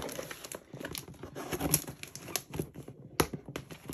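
Packaging on a newborn reborn doll box being cut open and pulled apart, giving a string of close crinkling, crackling and tearing bursts with brief sharp snaps, loudest near the middle and again toward the end.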